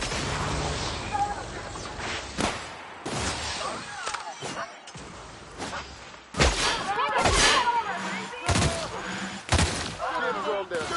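Gunfire in The Outer Worlds, a rapid run of loud shots and thuds with blasts and impacts, mixed with voices and busy combat noise.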